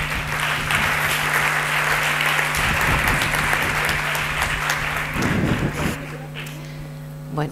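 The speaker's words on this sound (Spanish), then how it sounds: "que le demos otro aplauso de bienvenida" Audience applause welcoming a speaker at a school radio presentation event in Oviedo, a steady roomful of clapping that holds throughout, with a steady low hum underneath and a few louder bursts near the end.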